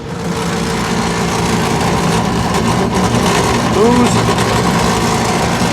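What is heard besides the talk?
failing HVAC rooftop unit inducer motor, likely worn bearings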